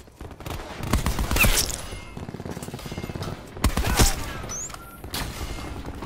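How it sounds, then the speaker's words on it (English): Light machine gun fire in the video game Black Ops 4, sustained rapid automatic bursts with heavier booming impacts punctuating the stream, loud and close, with little talking. "Getting a hip fire kill with a light machine gun is so satisfying."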